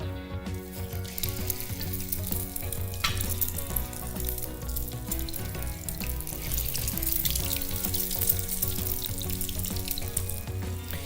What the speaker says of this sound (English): Carefully, this splatters.